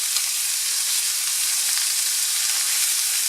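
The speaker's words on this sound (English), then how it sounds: "its own fat will kind of help cook the steak" A steak sizzles in a pan with no added oil, cooking in fat rendered from its own trimmed edge; a steady, close, even crackle and hiss runs throughout with no talking.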